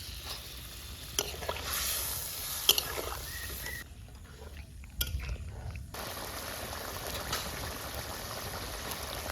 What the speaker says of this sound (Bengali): ঝোলটা সুন্দর ফুটে গেছে